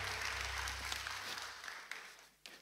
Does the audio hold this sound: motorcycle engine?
no